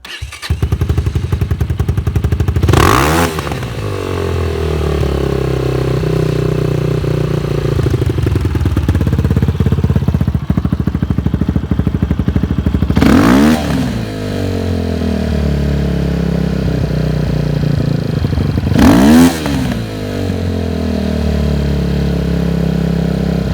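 Motorcycle engine fitted with a Nibbi PWK34 carburetor, revving hard three times, each blip rising and then falling slowly as the throttle hangs open, over a steady loud idle with mechanical clatter.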